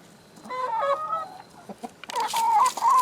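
Backyard hens cluck in a short burst of several calls, close and fairly loud, with a louder run of clucking near the end and no talk over it.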